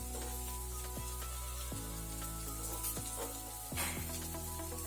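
Buthai fish sizzling on a hot tawa pan, a steady crackling fry with occasional sharper spatters and clinks, close and fairly quiet with no talk.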